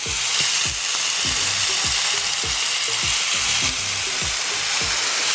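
Shrimp sizzle loudly on a hot grill, a steady hiss of frying with repeated low knocks or scrapes in a regular rhythm, close and with no voices.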